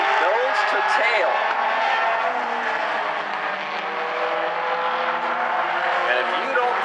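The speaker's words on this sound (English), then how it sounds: "line of cars coming out of 4 right now" Mini stock race cars roaring out of turn four at South Sound Speedway, a dense, steady engine drone from a line of cars running nose to tail, heard under a commentator's continuous talk.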